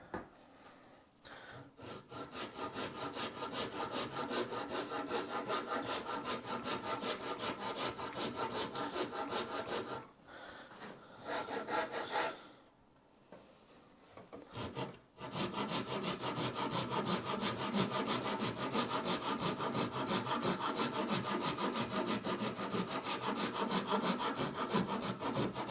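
Shinto rasp filing wood with steady back-and-forth rasping strokes, loud and close, continuing almost without break apart from short pauses in the middle; no one talks.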